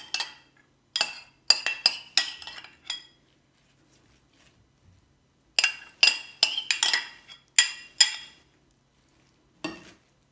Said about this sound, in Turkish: Sosumu da ilave ederek hepsini karıştıracağım.